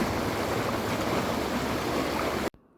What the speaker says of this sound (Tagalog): samahan mo pa ng tunog ng agos ng tubig